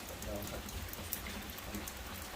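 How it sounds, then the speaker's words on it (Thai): Soft, steady patter of rain falling while out catching snakehead fish, fairly faint and continuous, with a voice murmuring quietly underneath. "ฝนตกเด้อ"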